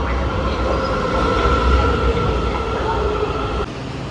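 A metro train rides through Tysons Corner in the USA, heard as a loud, constant rumble with a steady mechanical hum that continues without a break throughout.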